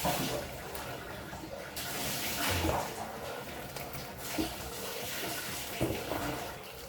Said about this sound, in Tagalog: magpipiga tayo ng ating gata